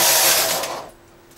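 Domestic knitting machine carriage sliding across the needle bed for a single row of two-colour zig zag fabric, a loud close whirring rush that fades out after about a second.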